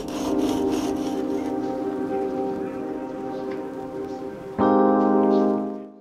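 A steel knife blade is stroked along an oiled sharpening stone in steady rasping passes, close and clear, with a brighter, louder scrape near the end before it stops.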